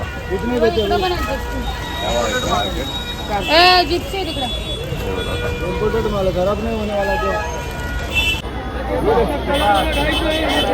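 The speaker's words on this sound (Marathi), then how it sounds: "गर्दी खूपच आहे गाईज" Dense crowd hubbub at a busy flower market, with overlapping voices, nearby chatter and occasional vehicle horns and traffic, steady and loud throughout.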